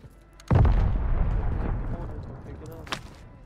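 Mortar fire in Call of Duty Warzone on Rebirth Island: a single heavy, booming impact that hits suddenly and rolls away in a long decaying rumble, with a smaller sharp report shortly after.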